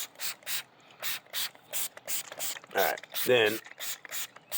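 A dog is sprayed with flea treatment from a pump bottle, a steady series of about a dozen short, crisp spray bursts at an even rhythm, close by, with a brief spoken remark in between.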